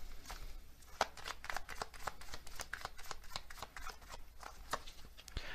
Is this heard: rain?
no